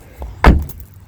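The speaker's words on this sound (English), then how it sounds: "Doors close nice." One solid thunk as a door on a 1951 Ford four-door sedan swings shut, close and brief, with a faint click just before it.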